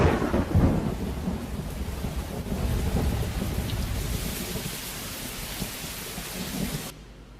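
A thunderstorm with rain: low thunder rumbles and rolls over steady, dense rainfall, loud and enveloping throughout, ending with a sudden cut.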